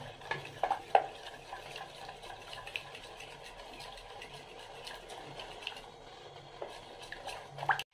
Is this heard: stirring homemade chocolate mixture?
yes